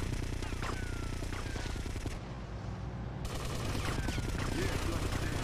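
Rapid bursts of gunfire from Grand Theft Auto: Vice City Stories fill the clip, with dense automatic shots continuing steadily over game noise and a brief lull midway.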